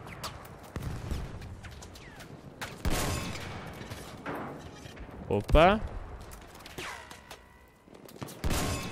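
Gunfire in Battlefield 1 as players shoot at a tank: scattered sharp shots and bursts mixed with game noise, heard under players talking.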